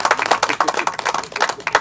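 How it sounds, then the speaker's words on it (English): A crowd at a press conference claps in dense, continuous applause, heard fairly close throughout the short burst. "Please give him a round of applause."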